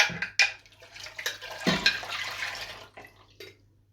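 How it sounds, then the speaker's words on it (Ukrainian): Risen yeast mixture is poured into a bowl, giving close, quiet liquid splashes and glugging in short uneven bursts that taper off toward the end, with no talk. "Дріжджі вже. Все, піднялись шапкою. Виливаю їх у миску."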